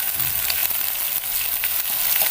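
Onions frying in a pan with salt added, producing a steady, dense crackling sizzle heard up close and without pause.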